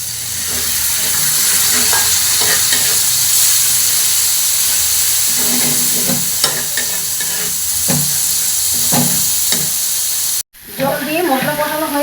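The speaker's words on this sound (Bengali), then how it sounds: "জল দিয়ে মশলা কষানো হয়ে গেছে।" Masala hisses loudly in a pan as water is added for egg tawa fry, a dense steady sizzle with scraping stir strokes, then a sudden break followed by a voice talking.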